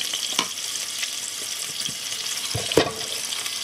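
Beef for Viennese Tafelspitz sears all around in a hot pot with a constant close sizzle and crackle, punctuated by occasional scraping and stirring thumps.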